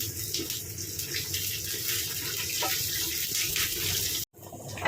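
Hot mustard-seed tempering with shallots, curry leaves and dried chilli poured into beef mappas curry, a steady sizzling, bubbling hiss held for several seconds, close and fairly loud, then cut off abruptly.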